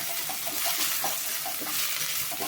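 Onions stirred and lightly fried in a pan for a Saturday rice meal, a steady broadband sizzle with soft, repeated scraping strokes of the stirring spoon throughout, fairly close, no talking.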